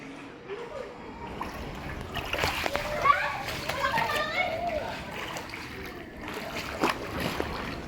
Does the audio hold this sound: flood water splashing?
yes